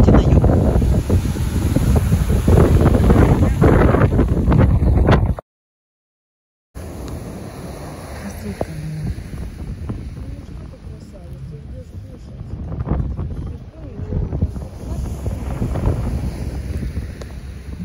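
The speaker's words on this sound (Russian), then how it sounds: "Ветруганище." Strong wind on the cold Pacific coast of California buffets the microphone in a continuous loud roar, with a brief dropout midway and gusts swelling again toward the end.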